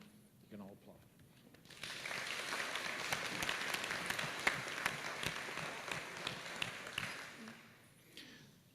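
Applause breaks out at a county board of commissioners meeting for the Lee County Gymnastics team, a dense crowd clapping that swells after a brief spoken lead-in, holds for several seconds, then tapers off.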